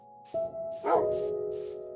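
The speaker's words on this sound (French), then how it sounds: "Pour avoir mon petit chien." A small dog barks in the Minecraft video game, two short synthetic yips rising clearly over a steady game tone, close and fairly quiet.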